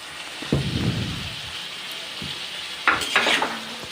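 Jackfruit seeds and taro stolons are stirred in a cooking pan, with a steady sizzling hiss and scraping strokes, a couple of louder stirring bursts near the middle and end.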